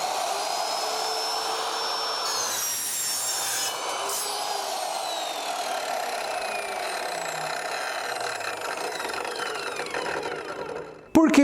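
Metal being cut by an ASM Ultra AC713 compact cold-cut saw makes a sustained, loud grinding and whining buzz with shifting high-pitched tones. It ends abruptly in a sharp clunk as the cut finishes.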